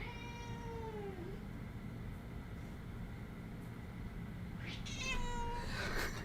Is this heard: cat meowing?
yes